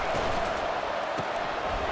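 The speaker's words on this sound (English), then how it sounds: "And here comes the noise. This crowd is trying to inspire this defense to make a big red zone stop." Football stadium crowd during a college game, a dense, continuous roar of many voices rising as the home defense tries to make a red zone stop, steady and loud throughout.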